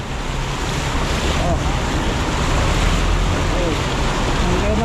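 Strong, shallow floodwater rushes through a street intersection in San Fernando as a continuous loud broadband roar mixed with wind buffeting, while a man exclaims briefly over it.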